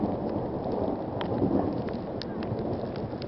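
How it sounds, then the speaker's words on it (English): Thunder rumbles low and steady during a snowstorm after a lightning strike. The rumble lasts the whole few seconds, with wind noise and a few faint ticks over it. "you can hear the thunder"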